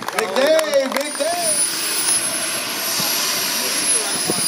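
A remote-control jet aircraft's turbine engine whines and roars steadily at an airshow, a sustained high-pitched tone running under a loudspeaker announcer's voice near the start.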